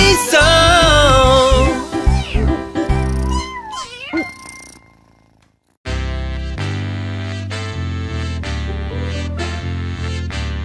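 A sung kitten meow in a French children's song, with repeated bright, pitched meows over a bouncy musical backing, loud and upfront, followed by a pause and then steady music.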